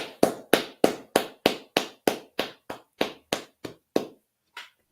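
A group claps in a steady rhythm of about a dozen sharp, loud claps that stop, followed by one last softer clap.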